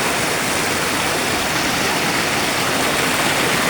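Muddy, dark water rushes down a steep stream along a risky mountain trail, a loud, steady and continuous roar of flow that fills the whole moment without a break.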